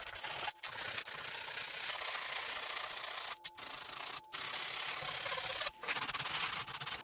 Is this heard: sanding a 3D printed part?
yes